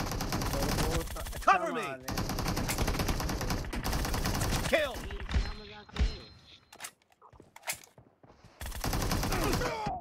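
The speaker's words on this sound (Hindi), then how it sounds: "M16 से मारने में लगा हुआ यार" M16 bursts in PUBG Mobile come as long, loud, rapid runs of automatic fire, broken by brief gaps and single shots, with a player talking over the shooting.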